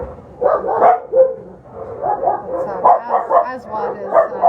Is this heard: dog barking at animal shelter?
yes